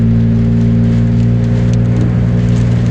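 Heavy rain with hard wind pours down steadily, a loud, dense wash of noise with a low, constant hum underneath, as if heard from inside a running car.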